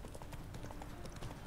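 Bandits' horses galloping in The Witcher 3, a rapid continuous clatter of hooves at steady volume, dense and close.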